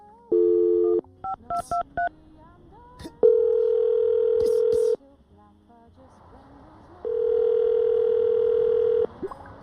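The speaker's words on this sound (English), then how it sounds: "I'm going to call him right now, see if we can get him on the phone" A telephone call is placed: a quick run of short keypad beeps, then long steady tones that hold for a couple of seconds each, clean and alone with no talking.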